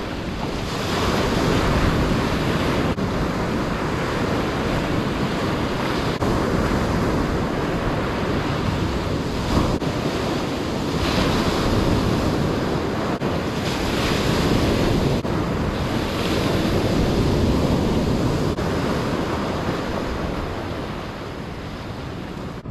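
Ocean surf crashes continuously at a beach in Wales, waves breaking loud and close with steady wind buffeting the microphone throughout, no voices.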